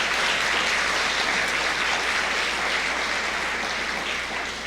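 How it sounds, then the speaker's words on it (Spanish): A church audience gives a warm round of applause for its parking and traffic ministry, a full, continuous burst of many hands clapping that fades slightly near the end. "un aplauso para nuestro Ministerio de Vialidad"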